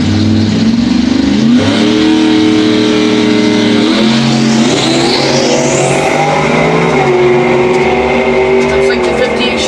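Drag race cars, a Henry J and a 56 Chevy, launch at a dragway with loud engines revving and climbing through the gears, with tire noise and a commentator talking over the roar.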